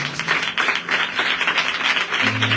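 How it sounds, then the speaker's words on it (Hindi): Church congregation clapping in thanks to God, a dense continuous patter of many hands through the whole stretch, with a steady tone from a keyboard or organ held underneath. "ये अच्छी ताली परमेश्वर के लिए बजा"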